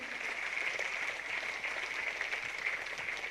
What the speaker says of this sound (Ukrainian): Співоча родина має ваші оплески.